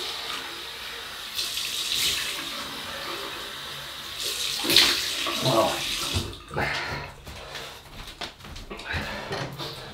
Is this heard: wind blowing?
no